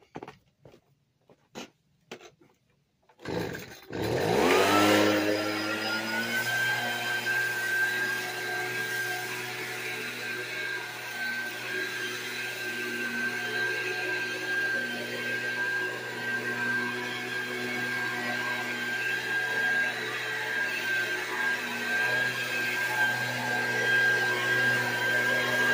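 A gas leaf blower starts up after a few sharp knocks and then runs steadily and loud, droning with a whining tone while blowing a pile of leaves outdoors.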